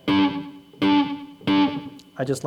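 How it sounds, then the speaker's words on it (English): Electric guitar played through a Visual Sound dual tap delay set for slapback echo on a riff: three loud, sustained chord stabs with short trailing repeats, followed by a brief, quieter run of picked notes. "I'm also using a Visual Sound dual tap delay for a slapback echo."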